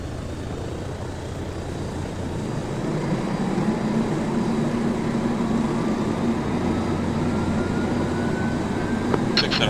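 Aircraft engine spooling up in the ArmA 3 video game, a steady droning whine that slowly builds and rises in pitch over several seconds, continuous and fairly loud.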